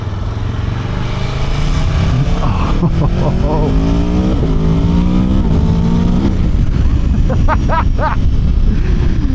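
An Aprilia Tuono V4 sport motorcycle engine roars loudly and revs up through several gear shifts, its pitch climbing and dropping, continuous and close.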